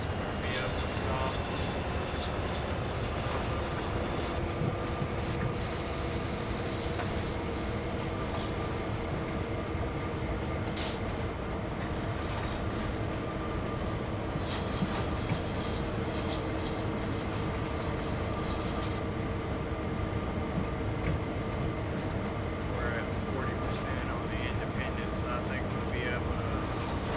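Train in Train Sim World 5 rolling along as it slows toward a stop, with continuous rumbling wheels and rail noise and recurring high metallic wheel squeal throughout.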